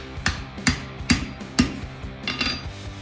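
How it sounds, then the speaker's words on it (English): Four evenly spaced hammer taps press rubber onto a blacksmith's fuller, each a sharp close knock, followed by a couple of softer, quicker taps. "I'm gently gonna tap that."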